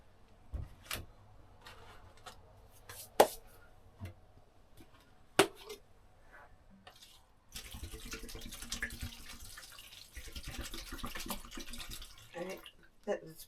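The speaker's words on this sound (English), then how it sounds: "take one tray out so I can put the water in" Water is poured into a seed tray for winter gardening in a steady, splashing stream lasting several seconds, after scattered taps and knocks, with a person talking nearby.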